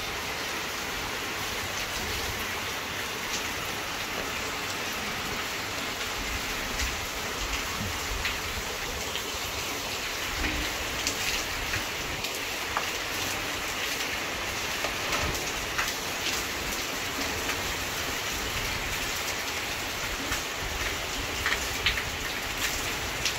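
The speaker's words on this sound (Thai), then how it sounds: "ฝนตกดีครับ" Heavy rain pours steadily at Ban Bo Noi in Chiang Kham, Phayao, Thailand, during a fifth-month downpour: a dense, continuous hiss of drops on surfaces, with scattered louder patters, loud and unbroken with no voices.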